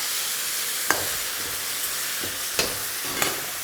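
Gravy for a turkey banh mi sizzling and bubbling in a hot pan: a steady, bright hiss broken by a few sharp utensil clicks against the pan.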